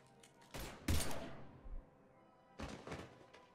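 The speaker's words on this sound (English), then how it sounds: "Now open fire!" Gunfire from Mass Effect 3: a few loud, sharp broadband bursts, two clustered early and a pair later, separated by a quieter stretch with a dull low thud in between.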